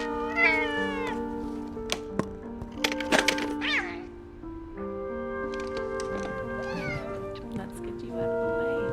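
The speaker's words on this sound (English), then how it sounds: "you're a fucking cat" Several meows from a cat in the video game Telling Lies, close and clear, over steady game background tones, with short sharp clicks between the calls.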